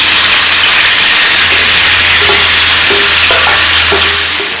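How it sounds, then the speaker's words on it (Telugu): Marinated chicken hitting hot oil on a heated tawa sends up a loud, continuous sizzle and hiss close by, with a low steady hum underneath and a few scraping taps near the end. "ఇందులో ఉన్న ఆయిల్ కూడా ఇప్పుడు మనము ముందుగా మ్యారినేట్ చేసి పెట్టుకున్న చికెన్ ఇందులో వేసుకోవాలి."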